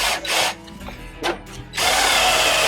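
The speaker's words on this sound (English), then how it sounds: "It'll drill right through it." A power drill aboard a sailboat whines in two short bursts, pauses, then revs up again and runs steadily at full speed, loud and close.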